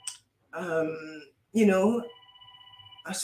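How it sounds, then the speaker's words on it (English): A phone rings with a steady electronic tone in a quiet room, following bursts of speech from a nearby voice, with talk resuming at the end. "my phone is ringing."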